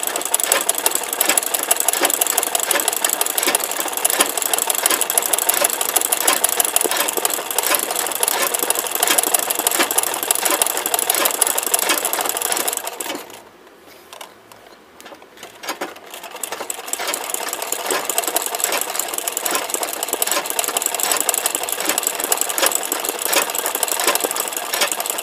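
Electric sewing machine stitching simple flowers, a loud continuous whirring drone close by that dips briefly midway before resuming at full speed.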